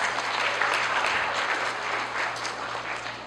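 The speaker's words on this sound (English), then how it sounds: "I want to get a round of applause for that" Applause from an audience at a primary school graduation ceremony, steady dense clapping sustained throughout, moderately loud with a faint low hum underneath.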